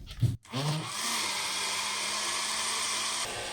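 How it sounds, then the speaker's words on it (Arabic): A kitchen blender mixing tahini and raw cocoa starts with a brief clatter, then whirs steadily at high speed, loud and close, running alone without any talking. "ونبدا نشغل الخلاط بتاعنا تاني"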